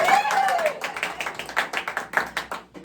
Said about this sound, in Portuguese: Mas salva de palmas primeiro.